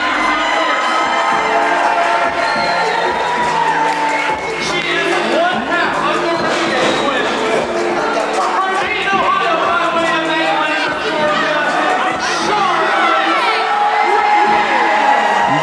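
A wrestling crowd roars and whoops as the Renegade Twins enter the building, a steady wash of cheering and children's shouts running continuously under a commentator's talking.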